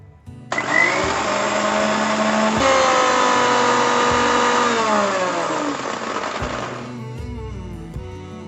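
A Philips HL7707 mixer grinder motor starts up loud and close, whirring steadily at high speed while extracting juice, its pitch sagging slightly under load before winding down near the end.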